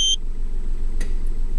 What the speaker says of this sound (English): click from the boot